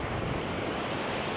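Winter wind blowing on a Mediterranean sea beach at Marsa Matrouh, a steady broadband rush buffeting the microphone with soft surf beneath, continuous and moderately quiet, no talking.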